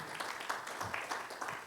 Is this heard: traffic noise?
no